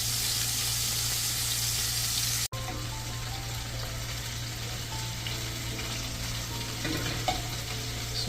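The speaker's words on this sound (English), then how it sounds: "So let us cook this for another 3 to 4 minutes on the other side." Chicken pieces for butter chicken frying in a pan over medium to high flame: a steady, dense sizzle and crackle with a short break partway through, continuous and close.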